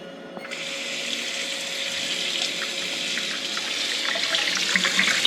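Plain tap water running steadily while UNI air filters from a CFMoto ZForce are rinsed, a continuous close hiss of flowing, splashing water that builds slightly louder over the few seconds, with no talking.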